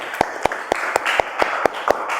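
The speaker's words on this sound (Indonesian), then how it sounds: "Oke, tepuk tangan untuk Panji" Students in a classroom clap together in a steady rhythm, a run of about nine crisp, evenly spaced claps at close range.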